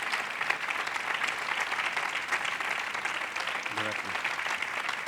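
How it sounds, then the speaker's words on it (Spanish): An audience at a 2022 literary awards ceremony in Barbastro claps in a dense, steady round of applause, with a brief spoken thanks near the end. "Y ya un aplauso para ellos y para vosotros."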